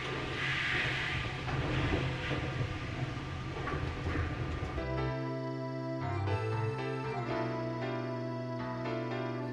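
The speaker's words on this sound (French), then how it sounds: "Notre rame va rejoindre la demi-station des départs en passant sans s'y arrêter par le dispositif de nettoyage" A Paris metro train rolls through an automatic train-washing device with a loud, broad rumble and hiss for the first half. It then gives way to quieter tonal music, with no talk.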